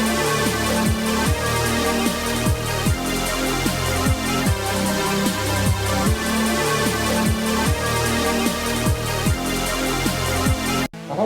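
A mixed and compressed melodic dubstep track made on Roland Aira compact synths plays loud and dense, with punchy repeating kicks under bright layered synth chords and a lead, then cuts off abruptly near the end.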